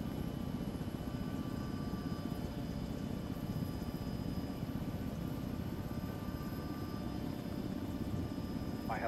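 A military helicopter in the video game ArmA 3 flies with a steady, continuous rotor and engine drone that holds at an even loudness throughout, with no voices over it.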